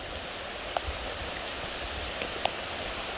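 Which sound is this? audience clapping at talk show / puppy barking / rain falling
rain falling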